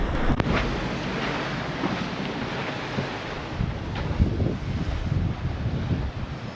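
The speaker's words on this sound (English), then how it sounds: "Just keep getting clocked by these waves." Ocean waves slap against a Hallberg Rassy 44 sailboat at sea between Porto and Gibraltar, a continuous rushing wash with heavy wind buffeting on the microphone and no talking.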